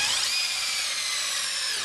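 A power drill drives a 3-inch screw into the wood of a raised garden bed, giving one steady, high whining motor run that lasts the whole short moment with no break.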